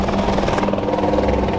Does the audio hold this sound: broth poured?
no